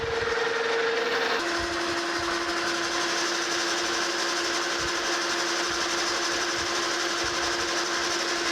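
A metal lathe spins steadily at 720 RPM while machining a replacement eyepiece adapter for a Hilger-Watts autocollimator, giving a continuous close whirring hum with a tonal whine that drops in pitch early on, plus light scraping ticks.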